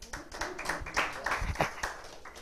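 A small audience claps at a spiritual care center in Vero Beach, Florida, with a few scattered, uneven hand claps over about two seconds, close and moderately loud.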